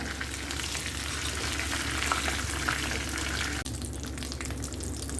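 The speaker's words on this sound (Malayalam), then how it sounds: "ഇത് വെന്ത ചിക്കനാണ്, അതുകൊണ്ട് നമ്മൾ മീഡിയം ഫ്ലെയിമിലിട്ടിട്ടാണ് ഇത് വറുത്തെടുത്തിരിക്കണേ." Chicken frying in oil over a medium flame, a steady dense sizzle that holds evenly throughout with a brief dip near the end, close and alone without talk.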